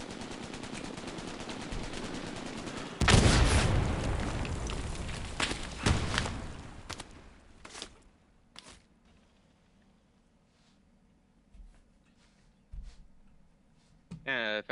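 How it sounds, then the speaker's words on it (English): Heavy gunfire and explosive blasts from an artillery barrage during a Carentan assault in a war video game, loud bursts early then thinning to scattered distant booms, with voices talking over it. "the fucking artillery"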